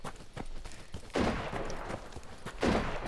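Bursts of automatic gunfire in the survival shooter Deadside, two heavy volleys standing out over a steady crackle of distant shots, with no talking.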